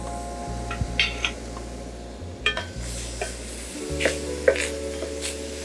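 Papaya jam with lemon zest and a pinch of salt cooks in a pan, making a low bubbling simmer with occasional spoon scrapes and clinks against the metal, no one speaking.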